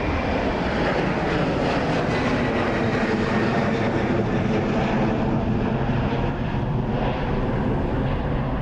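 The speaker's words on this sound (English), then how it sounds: "It was Ryanair that was cleared to take off." A Ryanair airliner takes off at Dublin Airport, its jet engines a loud, steady broadband roar filling the whole stretch, heard alone on a windy day with no talking.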